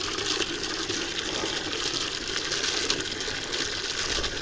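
Steady, loud broadband roar of a strong, constant north wind at -34°C windchill buffeting the microphone, constant throughout with no letup.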